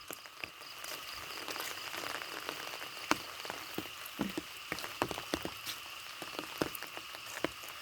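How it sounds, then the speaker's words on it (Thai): Heavy nighttime rain pours down steadily at a rural house, a dense hiss of drops on surfaces with scattered louder splats and patters, no voices. "ฝนน่ะยังตกอยู่"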